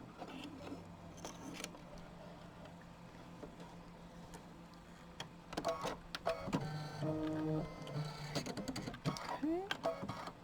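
An embroidery machine stitches a design on a broom shape, giving off rapid buzzing stitch bursts and whirring motor movements that start and stop irregularly, close up, with a person talking over part of it.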